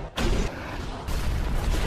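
A bomb blast from the sci-fi action film Elysium: a sudden loud boom followed by a broad, roaring rumble that stays dense and heavy throughout, with a second surge of debris noise partway in.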